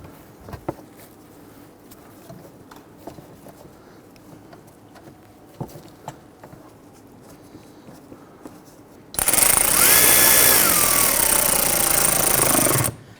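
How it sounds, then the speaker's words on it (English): An impact driver runs in one loud, continuous burst of about four seconds, tightening screws into the duct work on a 2011-2023 Dodge Charger and bogging down as they seat. Before it, near-silence with faint scattered clicks and handling taps. "You can actually hear the impact driver bogging down a little bit as it seats."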